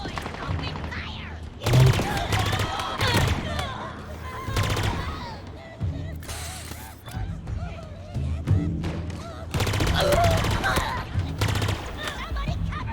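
Bursts of automatic gunfire in the video game Halo Infinite during a campaign firefight. Several clusters of rapid shots are separated by quieter gaps, with game voices and other sound effects mixed in.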